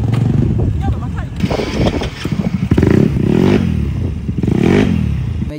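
A motorcycle engine running on stale gasoline sputters and misfires loudly and close by, its uneven revving full of rough surges, with a voice partly audible over the noise.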